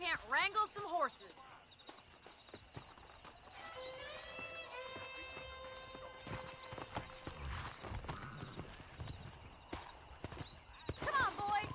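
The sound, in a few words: horses walking in video game Red Dead Redemption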